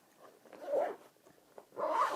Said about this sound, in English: we'll go ahead and zip this guy back up